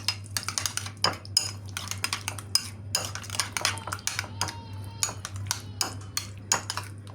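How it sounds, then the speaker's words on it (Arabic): Spoon stirring olive oil into a homemade sauce, rapid clinks and scrapes against a bowl in an uneven rhythm, close and fairly loud over a low steady hum. "قليل من زيت الزيتون، ونحركوا هادشي مزيان"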